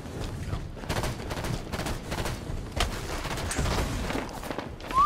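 Rapid gunfire and explosive bursts crackle steadily in a Halo 5 multiplayer match. The dense, repeated shots overlap and keep going throughout at a fairly loud level.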